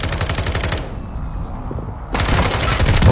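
Bursts of automatic gunfire from a military video game crackle loudly, cut off by a brief lull with a faint high whine, then resume with heavy rapid fire through the end.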